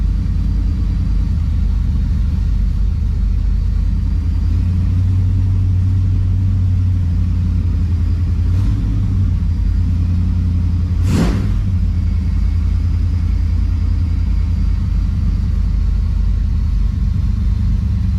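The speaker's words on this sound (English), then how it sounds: "It's idling high." A 1987 Monte Carlo SS engine converted to EFI idles steadily at about 1,000 RPM with a low, constant rumble, its pitch sitting slightly high, with one brief sharper whoosh partway through.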